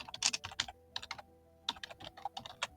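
Fast typing on a computer keyboard into a website search box, delivered as several quick bursts of close, crisp key clicks separated by short pauses.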